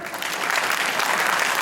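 A crowd at a municipal council event applauds, producing a dense, steady wash of clapping from many hands that holds loud and even throughout.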